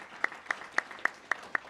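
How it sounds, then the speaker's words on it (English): A few people at a business luncheon clap for the venue staff, a sparse and evenly spaced run of six quiet claps over less than two seconds. "Let's have a round of applause for him and his outstanding staff here."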